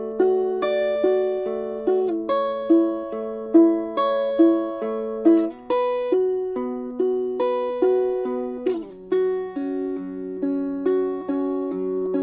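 An acoustic guitar plays rolls at double time, two per measure, using bar chords. Clear, evenly spaced plucked notes ring out alone at a moderate level, with no talking.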